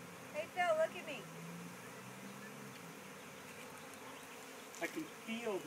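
A swarm of bees buzzes outdoors in a steady, faint drone, with voices talking softly at the start and again near the end.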